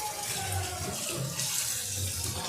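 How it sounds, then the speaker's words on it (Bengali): Pumpkins being rinsed under running tap water, a steady broadband rush of flowing water splashing continuously and fairly close, with no voices. "আমি এখানে রানিং ওয়াটারে কলের জলে খুব ভালোভাবে কুমড়োগুলোকে ধুয়ে নিচ্ছি"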